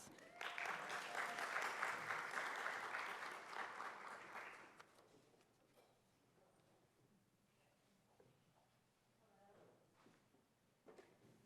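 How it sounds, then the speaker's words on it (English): Audience applause at an academic symposium, a dense burst of clapping from a small group that holds loud for about four seconds, then fades to scattered claps and room noise. "we can give her a round of applause"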